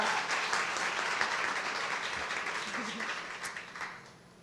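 A steady wash of applause from a graduation commencement crowd, fairly soft and continuous, fading slightly toward the end.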